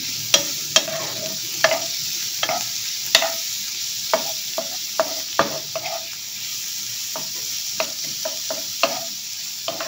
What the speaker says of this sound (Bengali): দেখো এই মাখন বা বাটারের মধ্যে পেঁয়াজটা ভেজে নিচ্ছি।